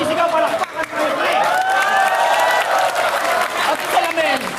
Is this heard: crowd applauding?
yes